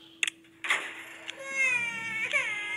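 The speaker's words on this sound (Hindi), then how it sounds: "ये बेबी के रोने की आवाज़ आ रही है" A baby cries in the horror game The Baby in Yellow, a close wailing cry that rises and wavers after a few sharp knocks, with game ambience beneath.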